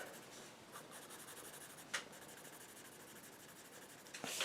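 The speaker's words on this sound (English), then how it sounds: "Now, with my blue pencil, let's just add a few highlights." Blue pencil drawing highlights on paper, a steady soft scratching with a few brief louder strokes, close and alone.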